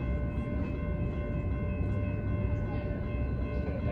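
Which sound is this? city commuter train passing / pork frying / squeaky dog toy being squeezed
city commuter train passing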